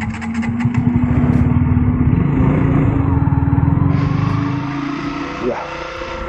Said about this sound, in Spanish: Una moto.